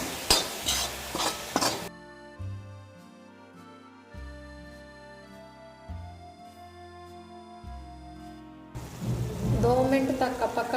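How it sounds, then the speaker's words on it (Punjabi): Turmeric, red chilli and ground ginger fry in a pan over low gas for a soybean curry, giving a soft, close sizzle and scraping at the start and again at the end, with steady background music filling the middle stretch. "ਘੱਟ ਗੈਸ ਤੇ ਸਾਰੇ ਮਸਾਲਿਆਂ ਨੂੰ ਪਕਾ ਲਵਾਂਗੇ"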